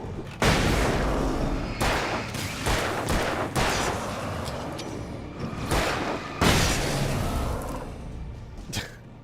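Repeated booming bursts of flashbang grenades going off in the video game Alan Wake, several loud explosive blasts in quick succession with rumbling tails, close and dominant with no talk.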